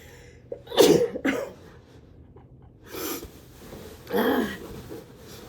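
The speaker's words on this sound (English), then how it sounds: "I gotta sneeze." Close, breathy bursts: a couple of sharp gasping intakes, then a forceful sneeze-like blast and another burst after a pause.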